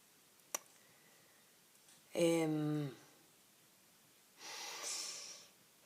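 A sharp click, then two close coughing bursts a couple of seconds apart: the first throaty and voiced, the second breathier and softer, with quiet between.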